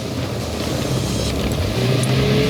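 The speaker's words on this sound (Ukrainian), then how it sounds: "Машина їде." Car driving in the military video game Arma Reforger, a continuous engine rumble with a slight rise in pitch and level toward the end, heard alone without talk.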